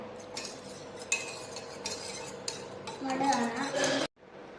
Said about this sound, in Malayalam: കോൺഫ്ലവർ പൊടി ഇട്ട് കൊടുക്കാം. നമുക്ക് നന്നായി ഇത് മിക്സ് ചെയ്ത് കൊടുക്കാം.